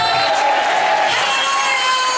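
A church revival crowd in Semarang cheers and claps in one continuous roar, with shouts rising over a steady wash of applause and no clear speech.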